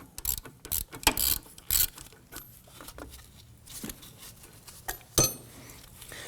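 A ratchet clicks in short bursts while loosening a caliper bracket bolt on a 2015-2024 Nissan Murano, with close, crisp metallic ticks separated by pauses and quiet handling noises.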